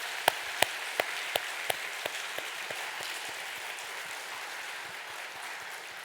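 A church congregation at a Sunday service applauds steadily, a dense wash of many hands with a few sharp louder claps standing out near the start and fading over the first few seconds.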